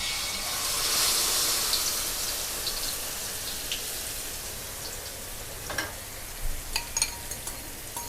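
Cha-om (acacia) leaves fry in a little oil in a pan, giving a soft, steady sizzle that fades slightly, with a few brief clicks and scrapes of stirring toward the end.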